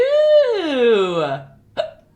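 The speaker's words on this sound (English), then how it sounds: "the hiccups" A person hiccups during a relaxed painting session, a long voiced squeal that slides downward followed by a sharp, short hiccup near the end, close and loud.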